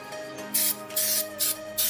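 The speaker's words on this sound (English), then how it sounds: "Just spray it, leave it for like 5 to 10 minutes, let it soak." Four short bursts of chain cleaner aerosol spray hiss out in a steady rhythm onto a motorcycle front sprocket area, loud and close, with brief pauses between them.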